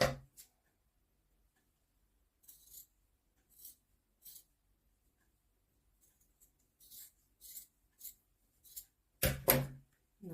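Scissors snip through knitted yarn for a gnome in a few quiet, short clicks spread across the stretch, followed by a louder burst of handling near the end.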